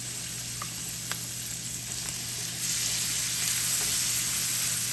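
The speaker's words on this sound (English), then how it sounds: "let's add these onions back to the mixture" Chopped onions go back into a hot pan of sizzling meatloaf vegetable mixture, giving a steady, fairly quiet frying hiss with a few faint clicks of stirring and no talk.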